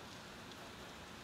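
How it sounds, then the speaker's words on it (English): Steady, dense rain falls outside, a soft continuous hiss with no other sounds above it, heard from a garage or workshop. "Raining, nasty,"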